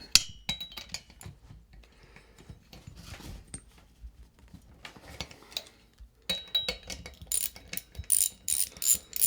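OBR 38cc gas engine, a modified 9.7hp unit, with its flywheel spun by hand against a piston stop, giving repeated mechanical ratcheting clicks and clatters, sparse at first and denser and louder toward the end, with no talk.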